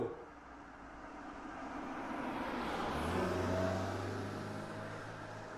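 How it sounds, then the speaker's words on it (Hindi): A car driving along, its engine and road noise rising in a steady hum that swells and then eases slightly over several seconds, close and alone with no talking. "ड्राइवर गाड़ी चलाता है।"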